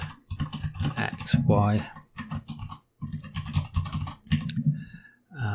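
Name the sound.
typing code on a computer keyboard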